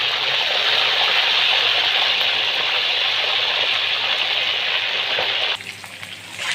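Chicken pieces frying in hot oil give a loud, steady sizzle that fills the clip, then drops off abruptly near the end into a softer crackle.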